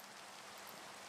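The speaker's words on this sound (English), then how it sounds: "Ah, rain." Steady rain falling in the blocky survival game TerraFirmaCraft, a dense, even hiss of drops without a break, soft and alone.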